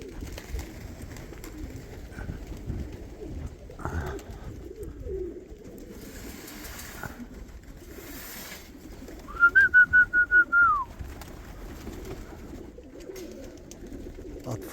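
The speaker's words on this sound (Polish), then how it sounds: "O, jakieś dwa gołębie latają." Pigeons coo in the background over steady outdoor noise, with a brief rapid whistled trill in the middle of the stretch.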